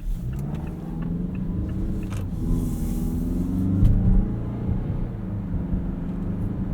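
A 2018 Mazda CX-9 Signature accelerating while merging onto a highway, heard from inside the cabin as a steady low engine rumble that swells and peaks midway, with road and wind noise and no speech.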